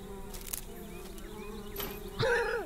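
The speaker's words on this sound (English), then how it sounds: "The bees." Buzzing bees in the video game Spirit Legends 5, a steady insect drone running through the game's ambient sound, with a louder burst of game effects near the end.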